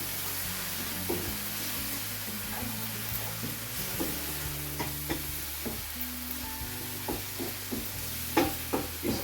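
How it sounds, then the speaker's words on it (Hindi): Spices for fish keema masala made with tuna and mackerel sizzle and fry in a pan, a steady close hiss with scattered small stirring knocks throughout, no voices. "इसके मसालों को हम थोड़ा भून लेंगे"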